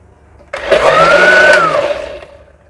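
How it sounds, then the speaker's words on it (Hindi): A kitchen blender churns cream with water into homemade butter, starting abruptly and running loud and close for under two seconds, its motor whine rising slightly in pitch before it winds down. "अब इसको रखूँगी ब्लेंडर पर और चंद सेकंड चलाऊँगी जी"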